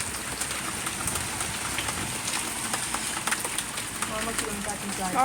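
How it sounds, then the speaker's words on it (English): Heavy rain pours steadily onto deep puddles during a storm, a dense close hiss of drops and splashes that holds constant throughout, with people talking faintly over it. "It's raining hard."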